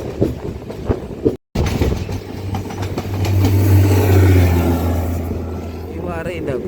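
Train travelling from Colombo toward Jaffna, a loud rumbling low drone of the carriages on the rails that swells in the middle and continues steadily, with a brief dropout near the start and a voice speaking over it.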